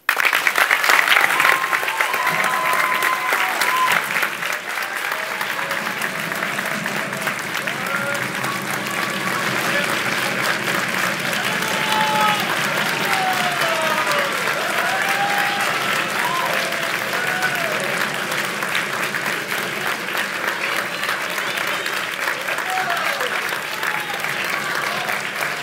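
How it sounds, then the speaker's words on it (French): Audience at a parliamentary debate championship final applauding the two finalist teams: sustained, dense clapping filling the hall at steady volume for a long stretch, with faint voices and whoops mixed into the applause. "veuillez maintenant applaudir bien fort les deux équipes finalistes"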